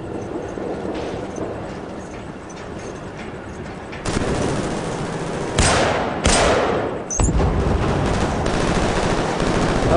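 Gunfire in Killzone 3 multiplayer comes as several sharp, loud shots over a rumbling game background, with a few distinct bursts in the second half.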